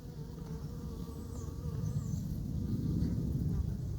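Honeybee foragers fly back to a hive being installed on the Île Saint-Louis in Paris. A steady, close buzzing drone fills the scene and grows slightly louder toward the end, with faint murmurs beneath it.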